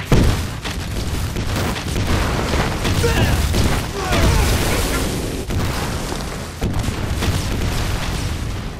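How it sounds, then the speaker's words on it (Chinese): Mortar fire from a war film about Japanese troops: repeated heavy booms and rumbling explosions roll through a dense, loud battle soundscape, with shouted voices mixed in. "好像是鬼子的迫击炮声"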